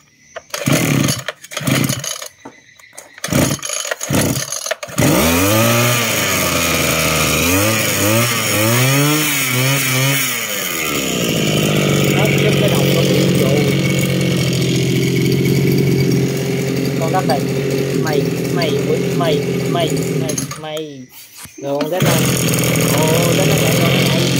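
A large Japanese brush cutter's engine roars close by, revving up and down, then running steadily at high speed, with people talking over it near the start.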